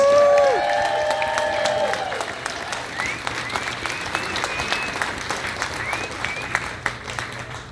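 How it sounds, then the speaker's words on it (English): Audience at an evening happy hour event applauds teachers in the room, a dense sustained round of clapping with some cheering, and a voice speaking briefly over the start. "Please give them a round of applause"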